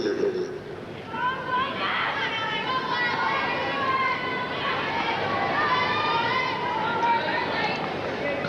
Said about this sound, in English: Crowd starting to find some voices